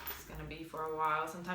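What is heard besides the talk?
None of the usual background noises is heard.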